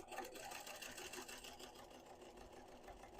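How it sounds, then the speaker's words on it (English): Sewing machine top stitching around the edge of a fabric crown, a steady fast whirring stitch that runs continuously at moderate level with no pauses and no talking. "So I'm just going to top stitch all the way around."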